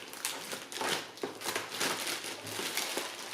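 Plastic wrapping crinkles around a camera lens as it is handled and unwrapped, close, soft and irregular crackling bursts without pause, with no talking.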